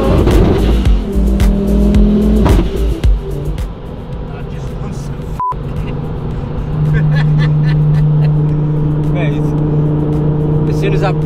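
Ford Focus Mk2 with turbo boost pulls hard under acceleration, a loud steady engine drone rising in pitch with a sustained whine in the second half, voices talking over it.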